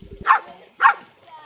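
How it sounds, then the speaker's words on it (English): A small dog named as barking from a stream bank gives two sharp, close barks about half a second apart, with quiet pauses around them. "Little Tilly was barking instructions from the bank"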